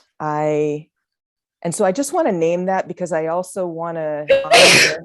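A sneeze bursts out late, close and loud, as a short noisy blast right after a spell of speech, with a brief sustained vocal sound at the very start.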